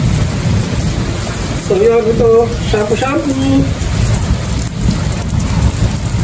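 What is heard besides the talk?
rain falling while someone bathes in it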